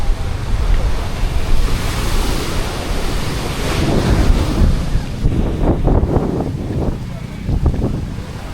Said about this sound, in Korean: 오늘 근데 바람이 너무 많이 불어가지고